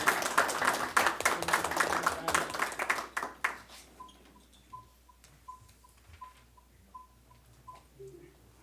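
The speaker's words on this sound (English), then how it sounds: "You can clap." Applause at a city commission meeting in Frankfort: a few seconds of dense clapping from the room that quickly tapers into scattered claps, followed by faint regular beeps and quiet room noise.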